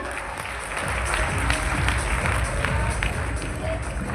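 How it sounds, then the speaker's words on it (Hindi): An audience at a company trip gathering claps in loud, sustained applause that swells after a quieter start and holds steady, with crowd noise and voices mixed in. "जोरदार तालियां हो जाए"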